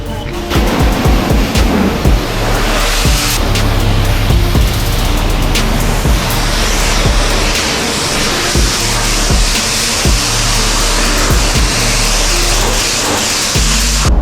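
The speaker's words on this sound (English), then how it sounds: "let's get this thing washed real quick" A muddy drift car gets a pressure spray at a do-it-yourself car wash, a loud steady hiss of water striking the body up close, broken by short knocks and shifts in the spray.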